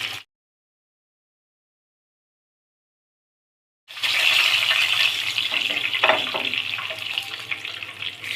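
Chicken pieces frying in oil: a few seconds of near silence, then a steady, dense sizzling hiss that carries on loudly to the end.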